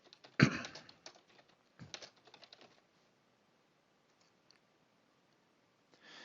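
Bursts of computer keyboard typing during a SharePoint 2013 site setup, with quick uneven clusters of key clicks, a louder burst near the start and another shortly after, then quiet.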